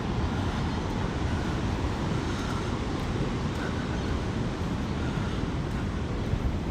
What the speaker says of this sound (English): We get to hear the wonderful sound of the sea